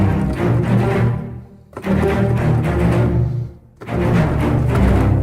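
Low staccato cello phrases from layered orchestral string libraries (Albion, Symphobia and scoring-strings spiccato cellos), loud and dense, played in three short rhythmic bursts separated by brief gaps, with no talking.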